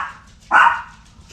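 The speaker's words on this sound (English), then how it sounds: "I hear barking outside." A single dog bark outside, sharp and moderately loud, standing alone against a quiet room with low background hum.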